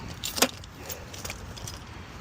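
A brief bright jingle of old-style keys for a 1986 Pontiac Fiero GT near the start, followed by a few lighter metallic clinks against quiet background.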